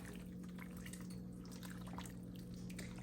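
A pot of crab boil is stirred as it bubbles, with soft watery sloshing and drips over a constant low hum, no talking.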